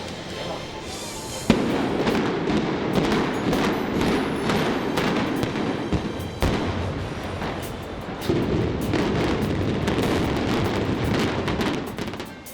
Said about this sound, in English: Independence Day kicks off with a bang at the capstone when, after standing for more than 4 decades, Rose Towers is brought down